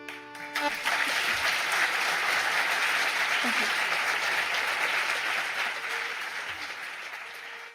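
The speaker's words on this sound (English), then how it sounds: "we're letting that applause ring out because people really enjoying that" Sustained audience applause after a playful banjo song at a folk listening party, a dense steady wash of many hands that thins slightly toward the end.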